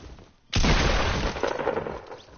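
A loud burst of video game gunfire in a duo match begins abruptly and roars on for about two seconds, with sharp crackling reports layered over it.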